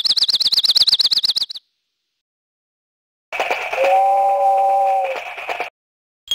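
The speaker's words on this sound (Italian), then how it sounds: "È una specie di orologio a cucù ed è stato costruito da Geppetto in persona." A cuckoo clock built by Geppetto, from a Disney video game, gives a rapid warbling chirp, then after a silent gap a sustained whistle-like chime with layered tones that stops abruptly.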